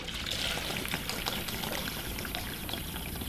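Coolant poured into the radiator of a BMW E30 with a swapped S52 engine, a steady liquid splash and trickle running continuously and fairly close, with no talk over it.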